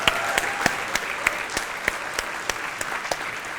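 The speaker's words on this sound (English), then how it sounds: "giving her another round of applause" Applause from an audience at a creative meetup, a continuous wash of clapping punctuated by regular, sharp nearby claps standing out from the crowd.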